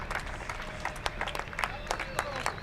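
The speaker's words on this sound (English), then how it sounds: "Plenty of people out there cheering for him still." Spectators cheer and clap at a 2023 San Marino GP MotoE race, scattered claps and crowd noise underneath steady commentary talk.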